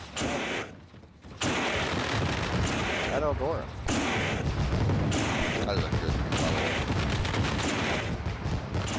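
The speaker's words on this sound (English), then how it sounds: "why does it do fireworks at the beginning?" Booming fireworks burst repeatedly over the Eldora track in a sprint car racing video game, dense and loud throughout, with someone talking over the blasts.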